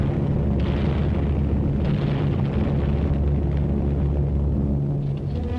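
Explosions from Allied aerial bombing and strafing of enemy strongholds along the Ledo Road in 1945 wartime footage, a continuous loud low rumble of blasts with dense booming texture throughout.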